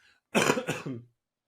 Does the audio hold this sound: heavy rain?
no